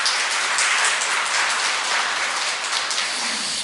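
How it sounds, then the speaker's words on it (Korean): A church congregation at a Sunday worship service applauds the youth choir, a dense, even wash of clapping filling the room steadily from start to finish. "하나님께 아름다운 찬양을 올려드린 우리 청년부에게 다시 한번 격려의 박수 부탁드립니다."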